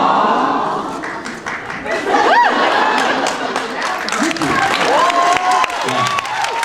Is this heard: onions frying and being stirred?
no